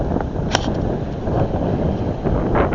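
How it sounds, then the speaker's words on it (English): Strong wind buffets an outdoor microphone in a continuous loud roar with gusting surges, rumbling close and steady throughout. "Here, it's very windy."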